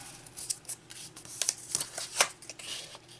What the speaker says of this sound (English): then I'm going to fold it this way